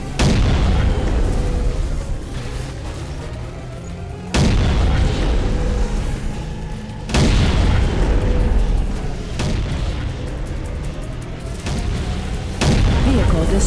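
Heavy cannon fire and blasts in the video game Unreal Tournament 2004, a series of loud booming explosions striking at intervals over a constant rumbling din, close and dense.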